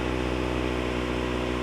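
Car engine idling after a throttle position sensor replacement, a steady even hum with no surging, close and moderately loud.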